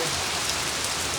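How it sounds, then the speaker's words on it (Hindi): Heavy rain falls steadily, a dense, loud hiss of drops pouring down without a break and no voices over it. "ओ भाई कितने तेज बारिश आ गई यार।"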